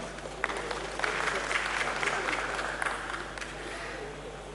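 Audience applause welcoming a panel speaker at a conference, a sustained patter of many hands clapping at moderate distance, steady throughout with a few sharper claps standing out.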